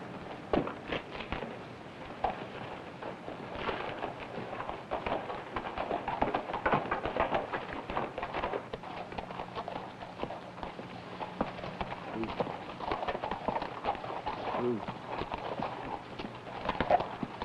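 Horse hooves clip-clop in a steady walking rhythm on hard ground, fairly close, with faint voices in the background, in a Western cowboy film.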